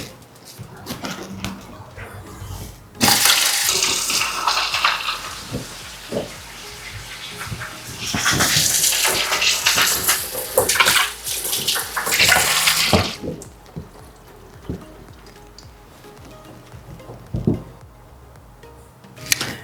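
Running water from a tap splashes over vegetables being washed for a Polish veggie soup, loud and close as the flow starts, swells, and then stops, with a few small clinks afterward.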